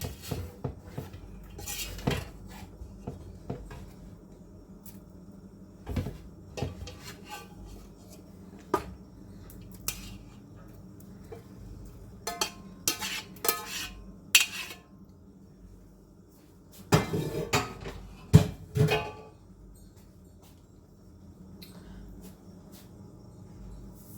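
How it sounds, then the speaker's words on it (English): Cooked noodles being tossed and stirred in a pan for chicken Alfredo, with scattered metallic scrapes and clinks of a utensil against the pan in irregular bursts, busiest near the end, with no talk. "we're going to toss it and stir it around so everything is coated"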